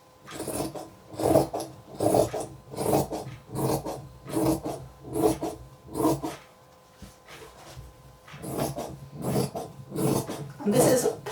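Rhythmic rasping strokes of a hand file taking excess material off one side of a piece, about a dozen evenly spaced passes with a short pause midway, close and clear.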